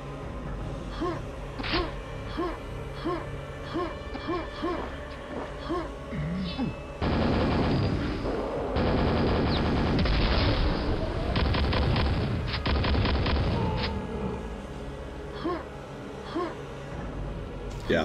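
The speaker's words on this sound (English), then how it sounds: "That nice mid-air grenade from the ogre on the side." Ogre grenade blasts from the video game Quake, played on hard difficulty, with loud booming explosions and rapid weapon fire crowding together in the middle stretch. Quieter periodic thuds and in-game effects come before and after.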